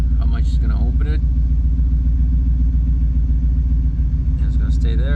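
A 1996 Chevy Silverado's 7.4L V8 idles slightly high with a loud, steady, close rumble throughout, while someone talks over it at the beginning and end.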